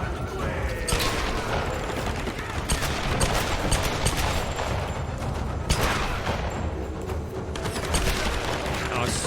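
Gunfire in the 2013 Tomb Raider video game sounds as dense, steady rapid bursts and booms across the whole stretch, a busy continuous battle mix with no clear gaps.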